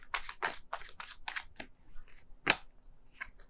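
A deck of tarot cards is shuffled close by, with a run of quick papery riffles and slaps separated by short pauses. There is no speech.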